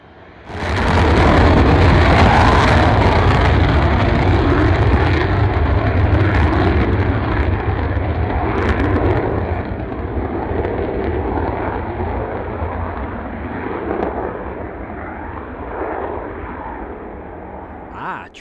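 An Eastern Airways airliner flies in with a loud, broad engine roar that swells quickly and holds steady for the whole stretch, easing slightly toward the end.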